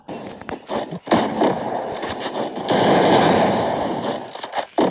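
Gunfire in a shooter video game crackles in rapid automatic bursts and a sustained volley, loud and dense with brief gaps between strings of shots.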